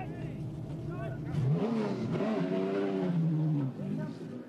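Race cars, including a Holden Commodore, roaring past at Adelaide International Raceway in a 1981 touring car championship round, engines rising and falling in pitch as they sweep by under steady commentary.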